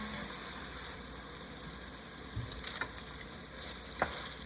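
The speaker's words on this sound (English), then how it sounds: "Stir to make sure that all of the sauce get into pork belly." Braised pork belly stirred in a pan of sugar, soy sauce and oyster sauce for Thai moo palo, a continuous sizzle with a few scraping stirs and light clunks of the utensil.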